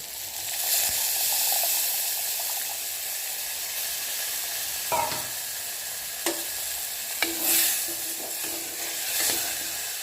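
Tamarind water poured into frying vegetables for a tamarind kuzhambu makes a loud steady sizzle and hiss, with a few spoon clinks and stirring knocks over it, close up.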